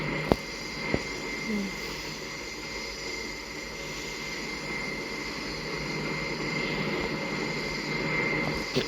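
Turboprop airplane landing in Turboprop Flight Simulator, a steady droning engine hum with a couple of faint clicks, no talking over it.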